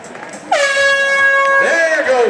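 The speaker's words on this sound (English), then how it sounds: "Listen for the sound of the air horn." A single loud air horn blasts to start a 12K road race wave, a steady sustained tone lasting nearly two seconds before wavering, with crowd noise around it.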